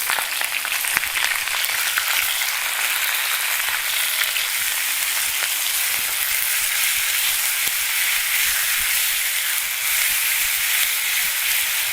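Boiled drumstick leaves fry in a pan for curry, giving a steady, close, broadband sizzle and hiss that holds even throughout with no talking.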